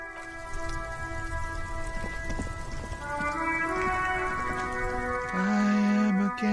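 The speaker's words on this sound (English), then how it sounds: "It's raining again. It was clear just an hour ago." Steady rain patters loudly in the Disco Elysium video game, with a low rumble of thunder underneath and sustained tonal music drones layered over the downpour, continuous and close with no speech.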